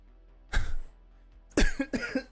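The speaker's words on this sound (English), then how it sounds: "sorry, I coughed right in the mic." A couple of harsh, loud coughs land right into the microphone at close range, the second a longer hacking burst, with quiet pauses between them.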